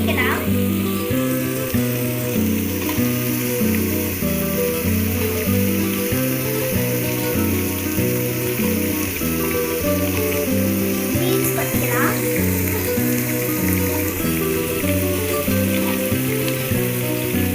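Chopped cabbage, carrot and beans fry in a pan with a steady, even sizzle that continues throughout, partly masked by louder background music.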